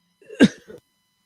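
A single short, sharp cough bursts out close by, followed by a brief murmur, then silence.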